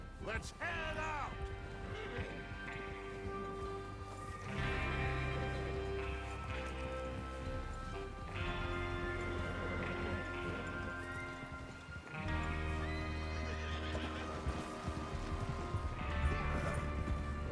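Rapid clip-clopping hoofbeats of several galloping horses in Red Dead Redemption 2, steady and driving, mixed with music and a rumbling background throughout.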